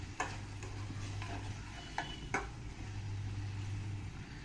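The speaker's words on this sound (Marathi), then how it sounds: "परत एकदा ना छान आहे ना भाजून द्यायचा हा मसाला आपल्याला" Masala roasts in a pan with a little water for a dhaba-style egg curry, a faint low sizzle punctuated by a few sharp spoon scrapes and taps, close but quiet, with no speech.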